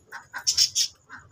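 Zebra finches chirping close by, a quick series of short bright calls and chirps in uneven bursts.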